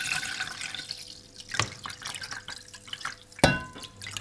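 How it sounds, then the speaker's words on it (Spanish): Water poured from a full jug into a pot on a kitchen stove, with soft dripping and splashing and a couple of sharper clinks. "Y vamos vertiendo el agua"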